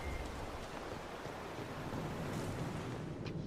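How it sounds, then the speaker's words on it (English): Ocean waves in the video game Dragon Age: Inquisition roll and crash as a steady, dense wash of surf, constant and full without breaks, with no voices over it. "Oh, those waves."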